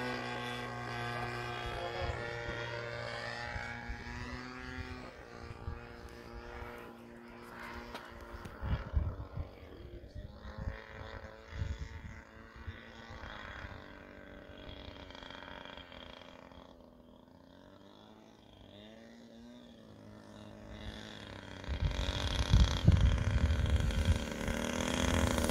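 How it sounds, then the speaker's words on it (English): A DLE 20 gasoline engine on a model Stuka airplane buzzes with a rising and falling propeller whine, fading at times and swelling loud again near the end as it runs outdoors. "That engine sounds nice. It runs super good."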